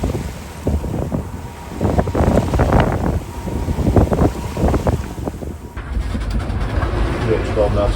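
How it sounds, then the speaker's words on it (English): Wind rushing over a sailboat at sea off the Pacific coast, loud gusty buffeting of the microphone with sloshing water beneath, easing into a steadier hiss of wind and waves. "It appears the winds have picked back up, but the swell is smaller."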